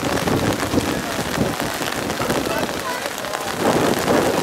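Heavy rain falls on the Shanghai Bund in fog, a loud, dense hiss close to the microphone with wind buffeting.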